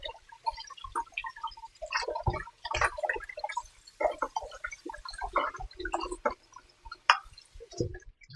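Red snapper fish being rinsed under water: irregular splashing, dripping and squishing of wet fish handled in a stream, close and moderately loud, with no talk.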